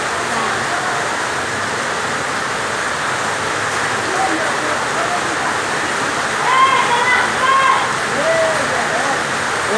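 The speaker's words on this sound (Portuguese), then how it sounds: "Olha a chuva do dia 30 de maio aqui, ó." Heavy rain pours down in a steady, loud, unbroken hiss, with a few faint chirps surfacing briefly near the end.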